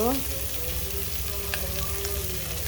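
Taro stolons added to a pan of fried small shrimp, frying with a steady loud sizzle and soft stirring clatter, while a low hum runs underneath.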